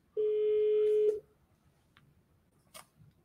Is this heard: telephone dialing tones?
yes